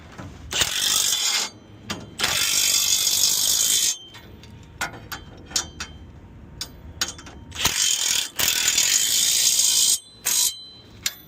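Rapid ratchet clicking while truck bolts are tightened, coming in several loud close bursts separated by short pauses, with no talking.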